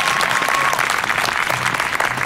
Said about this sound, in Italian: Un applauso a questo signore che lavora anche oggi.